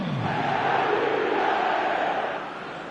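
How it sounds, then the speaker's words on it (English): A stadium crowd in the eFootball game roars loudly and steadily with a dense, swelling cheer, then drops back slightly near the end. "the crowd level has gone up a notch or 10"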